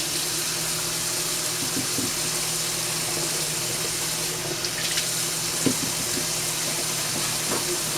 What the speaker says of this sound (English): We're just going to give these guys a quick rinse.